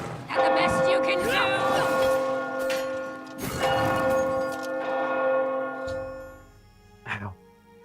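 Church bells ring out in the video game Oblivion Remastered, loud, rich tolls with long sustained harmonic decay, two strong strikes a few seconds apart, with faint game sounds underneath.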